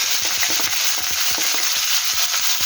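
Pork frying in a pan for a simple sautéed Filipino dish, a loud, steady hiss of hot oil with regular scraping stirs, close and with no voices.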